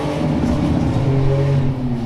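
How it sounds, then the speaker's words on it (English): An Oldsmobile car engine revs close by, a loud, sustained rumbling roar with a rising tonal whine partway through that eases off slightly at the end. "Nothing like revving the Oldsmobile."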